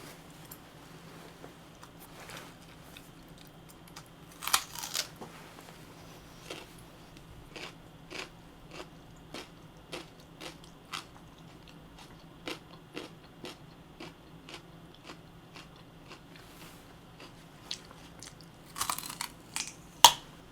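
Raw radish being bitten and crunched, with a run of crisp, sharp crunching clicks at a steady chewing pace up close, plus a few louder bites near the start and end, over a low steady background hum.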